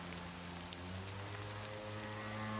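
Steady rain patters on the ground at a campfire site during wet weather, a continuous wash of drops with no voices.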